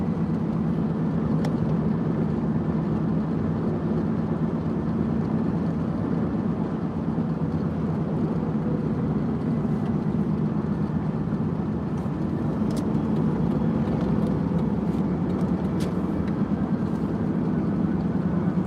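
Car engine droning steadily at low speed in a video game, a continuous even hum with no breaks across the whole stretch, fairly loud and with no talk.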